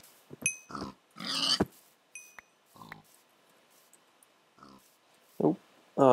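Pigs in Minecraft give short grunting oinks, scattered across several seconds with quiet gaps between them, with a few brief clicks mixed in and no talk.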